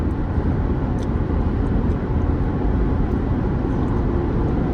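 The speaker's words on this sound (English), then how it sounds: "Lots of heavy trucks." Dense, continuous low roar of heavy trucks and traffic on Highway 401, a steady rumbling wash of engine and tire noise heard from inside a moving vehicle with no talking.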